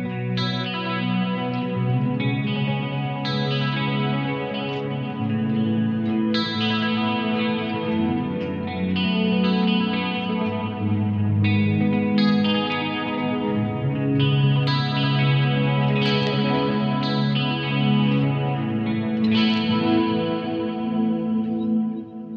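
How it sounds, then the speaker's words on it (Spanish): Electric guitar played through delay and chorus pedals on a pedalboard, sustained shimmering chords and notes with a swirling chorus and trailing echoes, loud and close, continuous with no talk. "si a esto le agrego un delay, tenés un sonido buenísimo"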